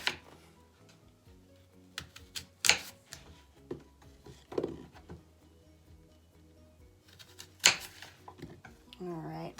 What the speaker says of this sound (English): Next, I'm going to cut up an apple